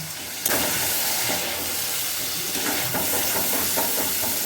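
Ginger, green chili paste and tomato paste frying in a pan, a steady loud sizzle and hiss with a sudden burst as something hits the hot oil, crackling continuing to the end.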